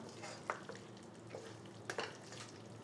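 Kerala-style pepper chicken peralan stirred in a pan over a low flame, with faint, quiet spatula clinks and scrapes over a gentle background sizzle.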